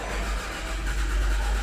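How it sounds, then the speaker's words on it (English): A 2011 Nissan Altima engine cranks steadily on a boosted battery, a continuous mid-pitched churning drone at moderate level with no pauses and no voices. "Oh, spinning a lot quicker. It's trying to start."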